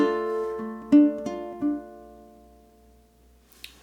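A ukulele plays the opening measure of "Hanukkah, Oh Hanukkah": a few bright plucked strums and single notes in an uneven rhythm, close and clear, then ringing out and fading to near silence.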